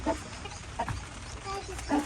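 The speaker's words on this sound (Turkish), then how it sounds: "Hep tavuklar istila etmiş orayı." Chickens clucking nearby in short bursts on a farm in the rain, over a steady rustling background.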